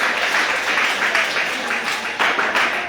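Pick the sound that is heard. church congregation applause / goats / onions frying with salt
church congregation applause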